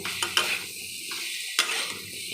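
Ground chilli and turmeric powder stirred into pumpkin in a pan with a few sharp metal scrapes of a spoon against the pan over a soft steady sizzle, close by.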